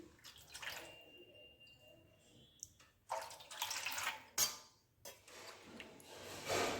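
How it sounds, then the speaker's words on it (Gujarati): Water splashes and pours into a bowl of besan dough mix with oil, in a few uneven bursts, close by, with quiet gaps between pours. "એમાં આપણે બે વાટકી પાણી નાખીશું"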